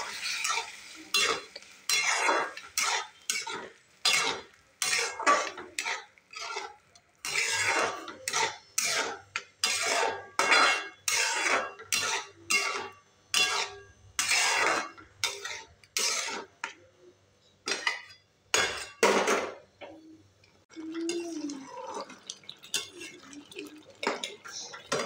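A spoon scrapes and clanks against a pan in a rapid series of sharp strokes as cooked vegetables are mixed into onion and tomato for pav bhaji, ending with soft sizzling.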